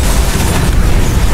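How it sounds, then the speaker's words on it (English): Explosions in the racing game Split Second: a loud, continuous wall of booming blast noise with no pauses across the short stretch. "Explosions for days."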